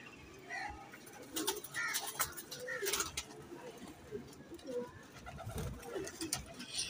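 Pigeons cooing in a loft with a pair of breeding birds, soft repeated throaty coos near and far, mixed with wing flutters and light rustling, with a person talking quietly.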